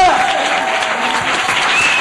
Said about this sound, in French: Et un peu d'applaudissements pour Roger.